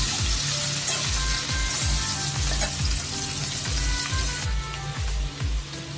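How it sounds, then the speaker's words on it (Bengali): Potatoes fry in hot oil for a vegetarian aloo paneer dish, giving a steady, loud sizzle with repeated low scraping thumps as they are stirred in the pan, and no voices. "তেলের মধ্যে আলুগুলো ভালো করে ভেজে নিতে হবে"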